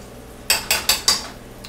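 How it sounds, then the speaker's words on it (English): Four quick, evenly spaced metallic scrapes of a spoon stirring dry ingredients frying in a pot for Guyanese chicken stew, close and crisp, with a faint fry beneath and no talking. "just want to give it a quick stir, because some of the dry ingredients might get stuck on the edges"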